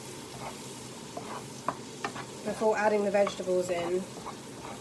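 Curried turkey stirred around a frying pan with a spoon, soft scraping and faint sizzle close by, while a voice talks briefly partway through.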